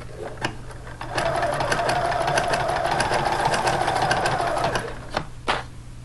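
A sewing machine works a blanket stitch in peach thread around the neckline of a t-shirt knit top, running steadily and fairly loudly for about four seconds, with light handling clicks before and after.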